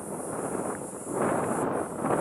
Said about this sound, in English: It's windy up here 360 days of the year.